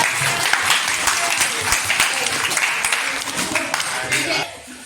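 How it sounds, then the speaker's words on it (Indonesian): A classroom of students claps together, a dense, lively burst of many hands that carries steadily before thinning out abruptly at the very end. "Tepuk tangan."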